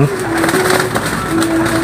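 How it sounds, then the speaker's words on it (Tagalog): Pigeons coo close by on a roof in low, throaty, continuous murmurs, with a faint rustle in the background. "Meron pang nasa bubong mga kalapati"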